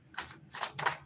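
Tarot cards shuffled by hand, three quick riffling bursts of papery flutter in about a second, close and fairly soft.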